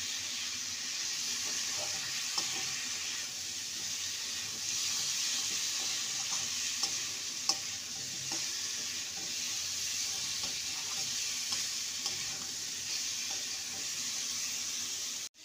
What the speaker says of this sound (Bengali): ভেজে রাখা কুমড়ো আর আলুটা দিয়ে দেবো। ভালো করে মশলার সাথে কষিয়ে নেব।